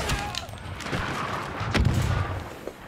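Blaster and gun fire in Star Wars: Battlefront II, a steady stream of overlapping shots with sharper cracks and heavier booms, loud and close throughout.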